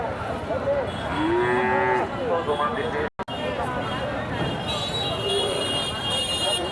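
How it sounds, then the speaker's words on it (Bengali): Desi calves moo repeatedly at the Dhaper Haat cattle market in Bogura, loud close lowing calls rising and falling, with a brief dropout midway and chatter from people in the crowd around them. "জিয়ান বাছুর"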